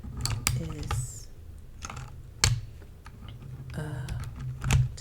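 Key presses on a mechanical keyboard fitted with new keycaps, clacking in irregular bursts of close, crisp strokes with brief pauses between them.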